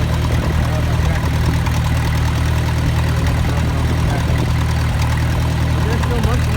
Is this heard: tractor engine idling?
yes